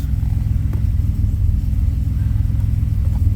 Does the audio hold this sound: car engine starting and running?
yes